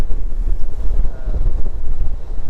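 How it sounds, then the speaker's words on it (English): Steady gusty wind buffeting the microphone on a hilltop hiking trail above Lanikai Beach, Hawaii, a low rumbling roar that swells and dips continuously, with no voices. "It's pretty windy right now, but it always is on this side."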